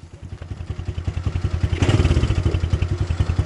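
A small engine, likely a motorcycle, chugs steadily at idle then revs up as it sets off for a forest mushroom-picking trip, its rapid regular pulses close and loud throughout.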